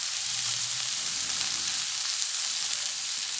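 Cumin and red chilli powder frying with cauliflower in a pan, a steady close-up sizzle with a soft stirring scrape, alone and fairly loud throughout.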